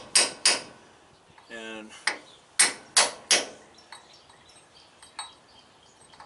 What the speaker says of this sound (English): I'm going to try to just chisel this thing out near that seam, get it to fold over